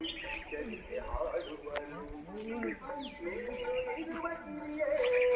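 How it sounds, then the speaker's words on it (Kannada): Several birds chirp and call in bright, varied notes, a busy chorus with a low voice murmuring underneath. "ಸೊ ಬರ್ಡ್ಸ್ ಸೌಂಡ್ ಹೆಂಗಿರ್ತೈತಿ ಕೇಳ್ರಿ ಒಂದ್ಸಲ"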